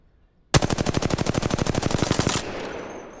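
Gunfire from the video game Apex Legends rattles out as one loud, sustained automatic burst of rapid, evenly spaced shots for about two seconds, then stops abruptly into a fading tail.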